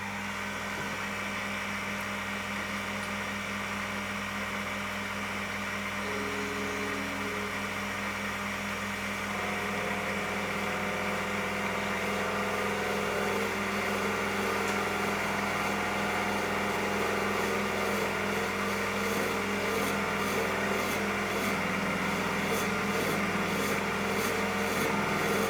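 A lathe parts off a cut while making a spray bar for a 1965 Mikro 3.5cc model diesel engine, giving a steady, continuous machining hum and whine that builds slightly in intensity, with no talking.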